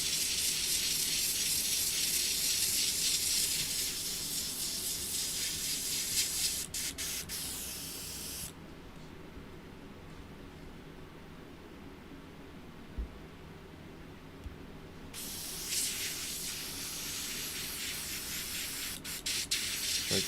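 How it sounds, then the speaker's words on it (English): An airbrush sprays paint onto an M978 fuel truck scale model, giving a loud, steady hiss that runs for about eight seconds, then cuts out into a quieter pause with a few faint knocks before the spray hiss resumes. "Try cleaning out the airbrush a little bit."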